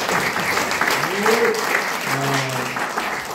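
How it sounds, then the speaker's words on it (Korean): A seminar audience breaks into loud, sustained applause for a lecturing doctor, dense clapping filling the room while a voice or two carries over it. "참 고생하시는 최 박사님을 위해서 박수 한번 크게 주시기 바랍니다"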